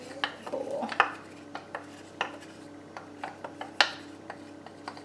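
A tablespoon of cornstarch scraped out of a bowl while cooking a one-pot chili cheeseburger macaroni: a string of short, close spoon-on-bowl clinks and scrapes in an irregular rhythm, with two sharper knocks standing out.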